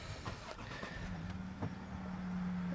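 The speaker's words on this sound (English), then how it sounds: "Foot on the brake, we do have keyless start." A 2019 Range Rover Sport 3.0 SDV6 Autobiography Dynamic with a 306 bhp diesel engine, started by keyless push-button; a short crank catches into a low, steady idle hum that settles and grows slightly louder toward the end.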